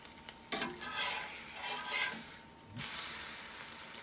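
An egg with a broken yolk fries in a cast iron pan over a flame kept below medium, a moderate hissing sizzle that swells and fades with spatula scrapes and stirring, no talking.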